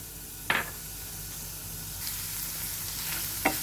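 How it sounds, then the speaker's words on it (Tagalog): Prepared garlic drops into hot oil in a pan on medium heat, giving a steady hissing sizzle with two sharp bursts of spatter near the start and end. "Now once the oil is already hot, let's add our prepared garlic."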